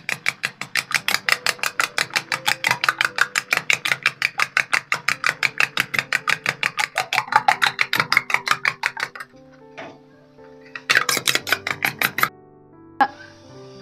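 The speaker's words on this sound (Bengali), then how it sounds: "এবার ডিমটার সঙ্গে ভালো করে ফেটিয়ে নেব।" Egg beaten with salt in a bowl: a fast, even run of about forty sharp taps of a utensil against the bowl, close and clear, then a few scattered clinks and brief rattles.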